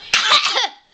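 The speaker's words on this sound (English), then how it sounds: "that was a fake cough" A single short, forced cough bursts out loudly and close, lasting under a second.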